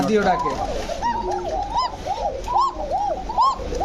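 Several pigeons, including hens, of foreign racing, Lahori and Kokka breeds coo repeatedly in a loft, a steady rhythm of rounded, rising-falling calls that overlap close by, with someone talking over them.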